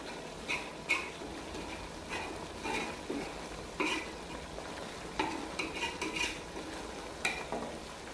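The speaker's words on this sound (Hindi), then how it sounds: "हम इसे मिक्स करके देखते हैं ताकि हमारा सालन नीचे से लग न जाए" A spoon scrapes and clinks against a karahi pot as chicken karahi curry is stirred, with irregular metallic taps over a faint sizzle. No voices.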